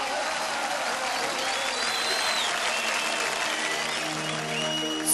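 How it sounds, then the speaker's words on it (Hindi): Sustained applause from a crowd at a live Indian stage event, steady and full throughout without speech on top. "सो जोरदार तालियां लखविंदर के लिए एवरीवन,"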